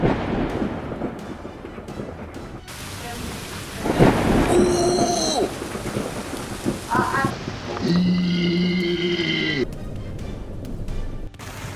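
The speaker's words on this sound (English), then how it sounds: "A lightning bolt split the sky above a small coastal town in England" Thunderstorm over a small coastal town in England, with steady rain and loud rolling thunder rumbles; voices and other sounds briefly rise over the storm noise.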